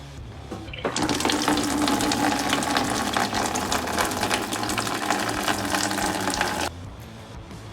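Steady rush of fluid draining from a car engine during a turbo overhaul, a continuous splashing flow that starts abruptly, holds for about six seconds and stops, heard alone at close range.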